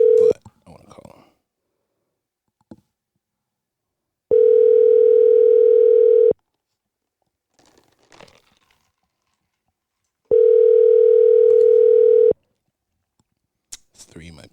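Two long steady electronic tones, each about two seconds, separated by a pause of near silence with brief faint sounds and a little distant talk between them.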